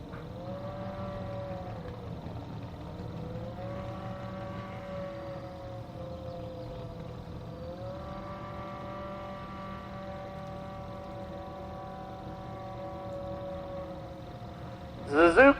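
A Suzuki-powered dragster at a drag strip, heard as a distant, sustained engine drone with rising and falling pitch sweeps, steady in level, before a brief loud burst right at the end.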